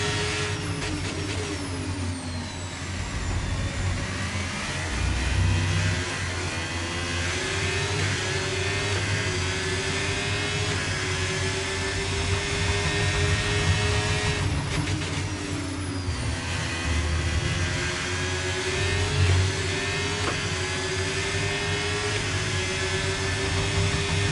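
A Formula 1 car's engine in F1 25 whines at a high, sustained pitch down a straight, its tone rising through gears with brief shifts and a steady roar underneath.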